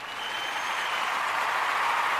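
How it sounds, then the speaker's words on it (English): Round of applause from a crowd, a dense and even wash of clapping that swells slightly and holds steady for a couple of seconds, with no talking over it. "Let me give you a round of applause."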